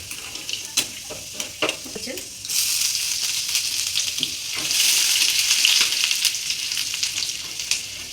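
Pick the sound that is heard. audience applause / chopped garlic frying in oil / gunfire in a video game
chopped garlic frying in oil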